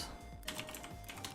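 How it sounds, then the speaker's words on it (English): Quick clattering keystrokes on a computer keyboard, a close, light burst of typing alone in a quiet room. "Am I typing this in wrong?"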